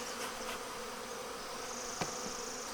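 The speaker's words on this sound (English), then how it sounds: "apparently I've made a lot of bees angry because every time I walk over here they're just swarming me" Angry honey bees swarm close around a beekeeper, producing a faint, continuous, even buzzing with a single brief click partway through.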